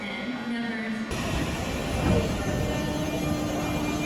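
JR 201 series electric train running, a steady broadband rumble and rolling noise with a low hum, loudness swelling briefly midway and holding constant throughout.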